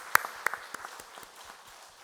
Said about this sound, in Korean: 한 박수 한번 보냈으면 좋겠습니다.